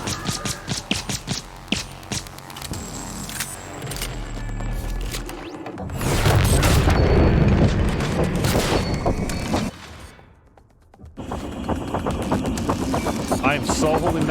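Gunfire in the video game Prey, loud bursts and booming impacts mixed with game effects, one fairly sustained stretch and a brief drop near the end, with a person talking over it.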